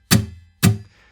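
Two muted strums on an acoustic guitar, short percussive chucks with dampened strings, evenly spaced and close, heard alone.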